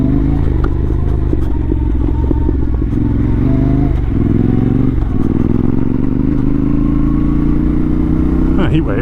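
A new Yamaha Tenere 700 adventure motorcycle ridden off-road through woods, its engine droning loud and close throughout with rising revs and rattling clatter, while the rider talks over it.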